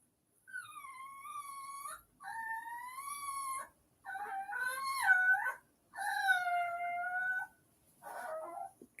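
A dog lies in a dog bed indoors, whimpering and whining in five drawn-out, wavering cries separated by short pauses, close but soft, with no talking.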